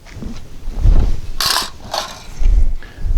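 Rifle action clacking as the bolt locks open, followed by an aluminum Sure Feed magazine dropping free, giving a few short metallic clunks and rattles in a quiet space with no talking.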